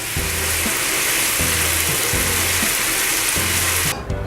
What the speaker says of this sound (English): Let the prawns cook for 5 to 8 minutes on medium flame